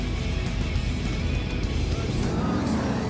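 Cars race in a street-outlaws-style drag event in GTA 5 Online, a continuous engine roar holding steady at moderate volume throughout.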